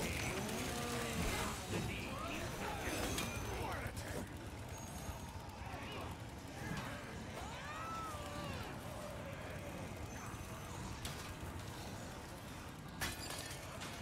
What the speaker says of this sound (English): Hi, cow. Bye, cow.